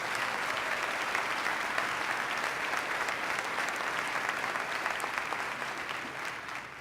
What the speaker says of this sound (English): Let's give them a round of applause and thank them for their service.